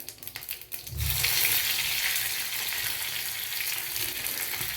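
Mustard seeds, urad dal and curry leaves hit hot oil for a peanut chutney, with a few crackles first and then a loud, steady hiss that stays constant.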